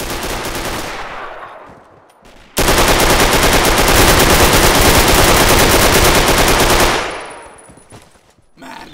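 Sustained machine gun fire in a World War multiplayer shooter game bursts in loudly after a short lull, rattling continuously for several seconds before tapering off into quieter background noise.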